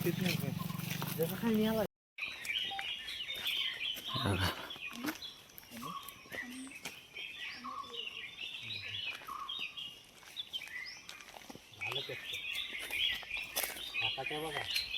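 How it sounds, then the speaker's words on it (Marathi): Birds chirp and tweet all around in a Konkan forest, bright and busy, while someone talks nearby over most of it. "पाखरांचा आवाज येतोय मस्त अख्ख्या जंगलात."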